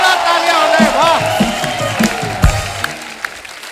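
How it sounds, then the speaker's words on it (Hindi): Studio audience at a comedy talk show bursts into loud applause, cheering and whoops as a wrestler character arrives, with a man's excited exclamations over the crowd noise. "जोरदार तालियां हो रहे, वाह।"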